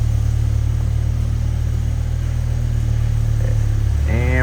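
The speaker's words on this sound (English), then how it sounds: "run engine at idle speed" A BMW M6 with a V10 engine idles, a steady deep rumble with an even low drone lasting throughout, close and unbroken, with a brief rising whine near the end.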